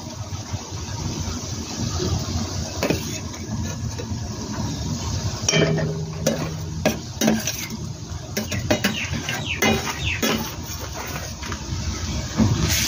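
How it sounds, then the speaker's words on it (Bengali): Spoon stirring ginger through cooked rice in a metal pan, with scraping and clinking of utensil against the pan throughout and faint background noise. "আদা দিয়ে নাড়ছি কিছুক্ষণ।"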